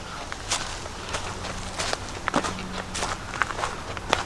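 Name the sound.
footsteps walking on pine needles in forest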